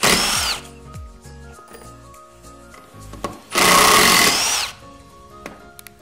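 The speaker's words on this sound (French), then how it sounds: "la visseuse à choc fait du bruit" A power impact driver drives a screw into wood in two loud, close bursts, the first brief and the second about a second long, with quieter tool handling between them.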